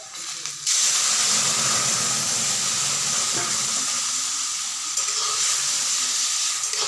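Lentils (dal) go into a hot pan of frying bitter gourd, bursting into a loud, steady sizzle that holds for several seconds with faint stirring scrapes and no talk.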